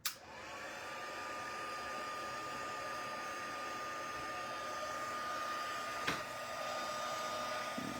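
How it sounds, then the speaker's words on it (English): A handheld heat tool blowing hot air over a floral craft project, starting with a sharp click and then a steady, close whirring hiss that holds evenly with a brief knock partway through. "And I'll grab my heat tool and we'll give this a little bit of a going over."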